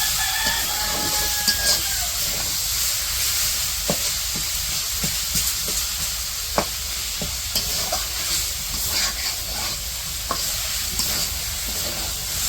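Leafy greens, jute and other saag, stirred into garlic and onion already fried in a village-style kitchen, giving a steady low sizzle with soft scraping stir strokes and occasional clinks throughout.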